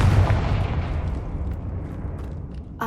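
A Confringo blasting spell explodes in Hogwarts Legacy: a heavy, rumbling boom that slowly fades over a few seconds, then a sharp crack right at the end.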